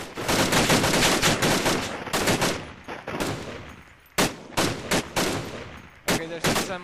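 Loud, rapid bursts of automatic gunfire with sharp single shots in the video game ArmA 2: Operation Arrowhead, cracking in quick clusters with brief pauses between volleys.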